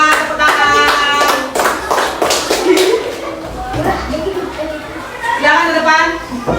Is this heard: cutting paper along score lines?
no